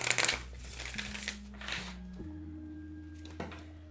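Oracle cards are shuffled briefly by hand, giving a quick, close riffle of papery flutter at the start and then a few faint soft slides and taps, with no talking over them.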